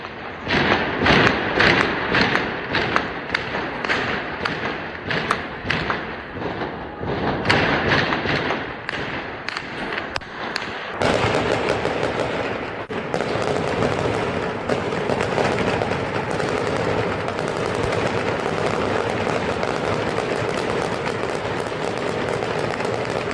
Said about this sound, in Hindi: इन लोगों को खदेड़ने के लिए अंधाधुंध फायरिंग कर रही है वहां की पुलिस या सेना